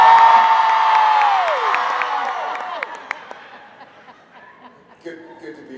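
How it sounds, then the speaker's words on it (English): A fan-convention panel audience screams and cheers loudly right after a greeting. The roar is dense and immediate, then gradually fades over several seconds, with scattered whoops and shouts trailing off. "It's really cool to say hi, y'all, and have people scream."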